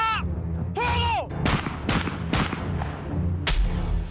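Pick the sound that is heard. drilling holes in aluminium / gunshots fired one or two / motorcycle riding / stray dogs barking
gunshots fired one or two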